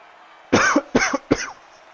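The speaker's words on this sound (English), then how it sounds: "Apologies there for the cough." Three sharp coughs in quick succession, close and loud, followed by quiet.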